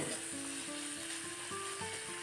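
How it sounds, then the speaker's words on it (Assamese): Ginger and garlic fry with dried pork in a pan for a pork curry with lentils, giving a steady close sizzle with soft stirring movements and faint background tones, and no speech. "আদা নহৰুখিনি দি পেলাই অলপমান ভালদৰে লৰাই দিম অলপমান ভাজিম"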